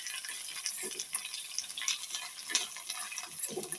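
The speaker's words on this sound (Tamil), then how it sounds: "கல் உப்பு போட்டு நல்லா நம்ம கிண்டி விடும்போது இந்த வெங்காயம் சீக்கிரம் வதங்கிடும்." Onions being stirred with coarse rock salt in a pan, giving a steady close-up scraping and sizzling texture with soft irregular stirring strokes, no voices.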